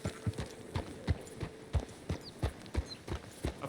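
A horse's hooves clip-clop at an even walking pace in Red Dead Redemption 2, about a dozen crisp, close hoofbeats in a steady rhythm over a quiet background.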